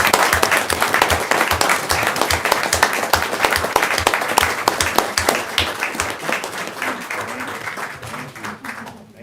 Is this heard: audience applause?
yes